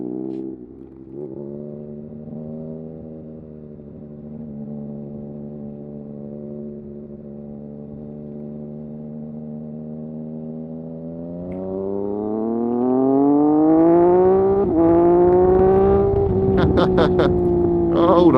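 Motorcycle engine idling low and steady while the bike rolls through a lap of a roundabout, then rising in pitch and loudness as it accelerates out, heard close and continuous throughout.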